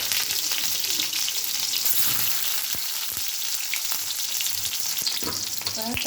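Sliced onions go into a hot pan of oil already holding fenugreek seeds for a Tamil fish curry, a loud, continuous sizzle with occasional stirring scrapes.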